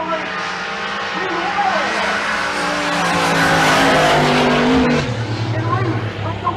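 Drag race cars launch at a Pueblo motorsports race, loud engines roaring and rising in pitch as they pull away, with a commentator talking over the noise.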